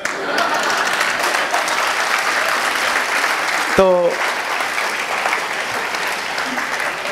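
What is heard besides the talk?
audience clapping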